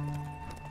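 Horse galloping during a race in The Witcher 3 video game: a steady, rhythmic clip-clop of hooves, close and continuous, over a dense game soundscape with no talk.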